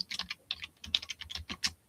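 Rapid typing on a computer keyboard, a burst of close, crisp key clicks in an uneven rhythm, heard alone without voices.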